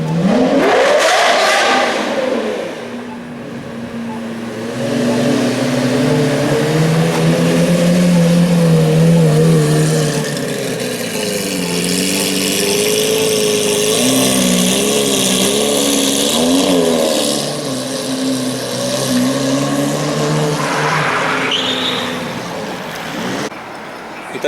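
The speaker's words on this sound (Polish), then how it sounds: "słyszę to Murcielago za mną i po prostu zaraz zobaczycie, jak podjedzie pierwszy McLaren" Lamborghini Murcielago and McLaren supercars pull up on a city street in the evening, a loud, close engine roar with rising and falling revs that swells and holds for several seconds, with a brief burst of acceleration near the end.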